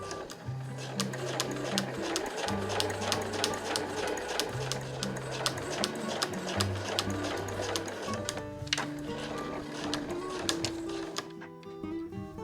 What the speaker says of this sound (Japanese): このように目打ちを使って自分が縫うところの手前をしっかりとこう押さえるように縫っていきましょう